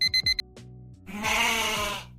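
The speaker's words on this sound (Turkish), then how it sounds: "bağıran bir keçi sesi" A loud goat bleat with a wavering, nasal tone, preceded by a few short electronic beeps and a brief bleat.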